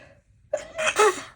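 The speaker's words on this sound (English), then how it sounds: "I love that the sneezing is starting now." A single close sneeze, a quick intake of breath then an explosive, breathy burst, in an otherwise quiet room.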